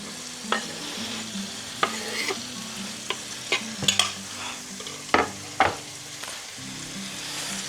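Chopped onion, one large onion, frying in a pan for a chicken and mushroom pie, with a steady sizzle under scattered sharp scrapes and clacks of a utensil stirring it, heard close and alone.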